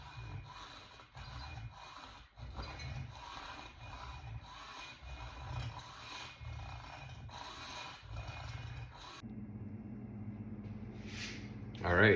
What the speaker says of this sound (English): I am going to be cutting this slab here with a hacksaw